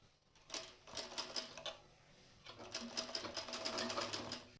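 A sewing machine stitches fabric for a girl's flared frock in two quick, rapid bursts of rhythmic needle clatter, close by and fairly quiet.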